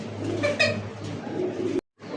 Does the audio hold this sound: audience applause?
no